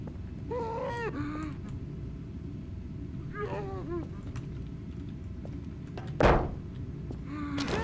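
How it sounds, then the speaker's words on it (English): Zombies in the Half-Life 2 Episode 2 game give off warbling, groaning vocal cries in a few separate bursts over a dense low rumble, with one sharp thud near the end. "I hear zombie sounds."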